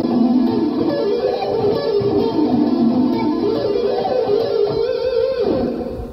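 Electric guitar playing a pentatonic blues pattern, a continuous, loud run of dense, overdriven notes that winds up and down for several seconds with no talking.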